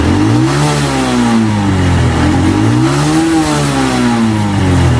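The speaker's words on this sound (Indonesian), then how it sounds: "Coba maaf geber bang." A motorcycle engine, a Honda Revo Absolute fitted with an NMAX regulator, revs up and down repeatedly, rising and falling in pitch, loud and close with no talking.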